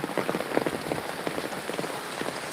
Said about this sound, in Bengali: এই হলো বৃষ্টির অবস্থা ঢাকা শহরে